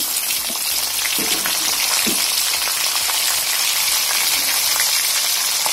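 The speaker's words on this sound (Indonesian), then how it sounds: "langsung kita masukkan cumi-cumi yang udah dibumbukan tadi" Seasoned squid going into a frying pan over partly cooked potatoes for an Acehnese stir-fry, a loud, steady hiss of sizzling oil with faint stirring clatter and no talk.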